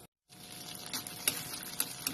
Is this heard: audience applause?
no